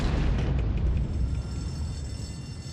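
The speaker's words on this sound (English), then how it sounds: "police station rocked by explosion" An explosion rocks a police station in a film, a loud low rumbling boom with dense, noisy body that rolls on and slowly settles, no voices heard.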